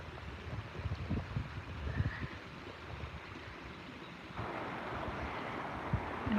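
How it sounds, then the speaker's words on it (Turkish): A cold Black Sea region mountain stream flowing beside a house, a steady broadband rush of water that holds throughout and grows slightly fuller partway through, with faint background sounds and no talking. "Yani buranın en güzel yanı dereyle iç içe olabilmek."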